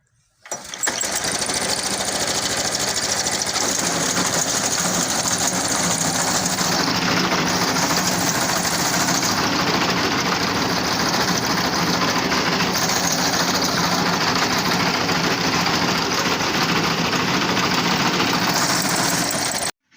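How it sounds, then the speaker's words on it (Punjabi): A fodder chaff cutting machine for chopping sorghum, maize and wheat runs continuously at close range with a loud, steady engine drone and rattling mechanical noise that starts abruptly and stops at the end. "ਤੁਹਾਨੂੰ ਮੈਂ ਖੁਦ ਚਲਾ ਕੇ ਮਸ਼ੀਨ ਵਿਖਾਉਣਾ ਵਾ"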